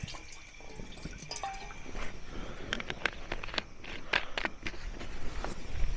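Water poured into a pot at a forest campsite in Uttarakhand while cooking, a splashing, dripping trickle with scattered clatter, close and moderately quiet, no talk.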